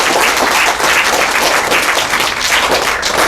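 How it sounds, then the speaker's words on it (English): Sustained applause from an audience at a graduation ceremony, dense steady clapping filling the whole stretch at a loud, even level with no voices over it. "let's give her a round of applause"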